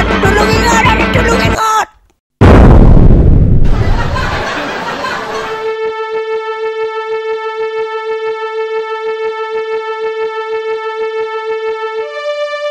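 Cartoon bomb explosions in an animated war scene: a loud booming burst cuts to a brief silence, then a second heavy blast rolls and decays, followed by a steady siren-like tone, with a short shouted voice early on.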